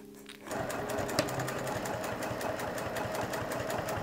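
Sewing machine closing the gap on a fabric basket with a short 2.5 mm stitch, starting up and then running steadily with a fast, even needle chatter, close and alone.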